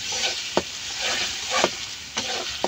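Mustard paste, dried chili and garlic sizzle and fry in a pan for mango pickle, with a steady hiss broken by several sharp stirring scrapes and knocks at irregular intervals.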